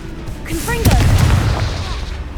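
A Confringo explosive spell cast in the video game Hogwarts Legacy goes off as a loud blast, with whooshing effects before it and a rumbling tail afterward.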